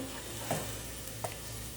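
Ingredients brown in a pan before beans are added, with a steady soft sizzle and two brief scraping stirs of a utensil, close and moderate in level.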